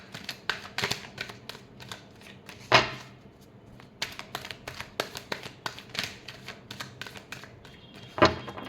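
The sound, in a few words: shuffling tarot cards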